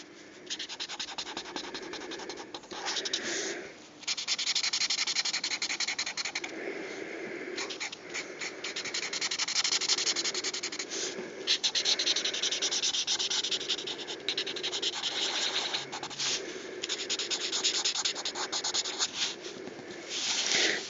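Alcohol marker nibs rub and scratch across paper while colours are blended over shale-toned areas, a close, continuous soft scrubbing with brief pauses between strokes and no talk.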